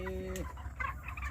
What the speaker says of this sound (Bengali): এটা 2200 আছে মুরগি